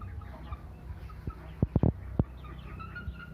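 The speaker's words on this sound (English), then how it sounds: "This is my chicken" Chickens on a chicken farm cluck softly nearby, with a short burst of several sharper squawks midway against low background farm noise.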